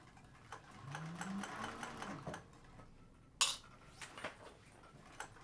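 A cylinder arm sewing machine stitching binding in a circle, heard as faint, intermittent runs of motor whir with a rising pitch sweep, followed by sharp clicks and taps from handling; quiet and alone.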